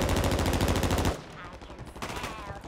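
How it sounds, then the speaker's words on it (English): Call of Duty gunfire: a loud, fast burst of automatic shots, then a brief lull and more shots, with voices audible beneath. "We're shooting you from control center."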